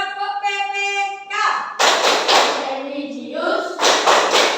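Classroom group doing the tepuk PPK clapping chant, a voice calling out before a burst of rhythmic hand claps patterned in quick sets, with chanting voices woven between the claps.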